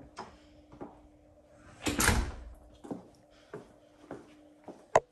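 The front door of a waterfront home at Innerarity Point swings open, marked by a few soft knocks and clicks and one louder scraping burst in the middle, then a sharp tap near the end in a quiet room.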